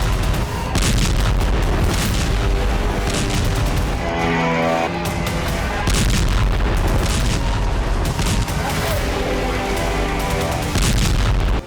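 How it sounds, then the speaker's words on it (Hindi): Repeated booming explosions from drone strikes on Russian air bases, loud and echoing, rolling continuously with dense rumbling blasts and crackling debris throughout. "और धमाके की गूंज के साथ धधकती जमीन"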